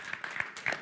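Brief burst of audience applause at the Konsoll 2022 game development event, a short patter of scattered hand claps of moderate loudness.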